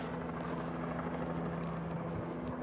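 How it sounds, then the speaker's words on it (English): A helicopter flies overhead behind a funeral site at an active shooting scene, its steady rotor drone loud and continuous throughout, with no talk. "There's the helicopter."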